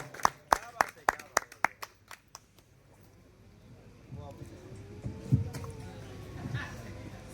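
At a mushaira in Banswara, a small audience gives a few sharp, separate claps welcoming a guest poet, which quickly die away into room hum and a voice speaking.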